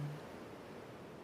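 Ocean waves wash gently on a beach as a soft, steady, faint surf hiss with no distinct breaks and no voices.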